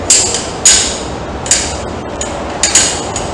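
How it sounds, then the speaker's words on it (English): A carabiner is locked off and a Purcell prusik tightened on a vertical post while packaging a patient in a Stokes basket: several sharp metallic clicks and clanks, a few strong ones spaced apart with lighter ticks between, close by with no talk. "Lock our carabiner off"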